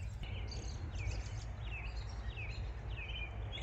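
Small birds chirp outdoors beside a home vegetable garden, a few brief high calls repeating every second or so, faint and somewhat distant over a steady low rumble of background noise.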